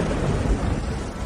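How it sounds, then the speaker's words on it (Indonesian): A thunderclap sound effect for a lightning strike in a drama rumbles as a dense, loud, broad roar. It is short and sustained, with no voices. "petir Dewa Ungu."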